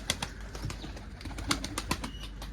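Tumbler pigeons in a small coop coo and shuffle, with soft calls and wing flutters close by at low volume.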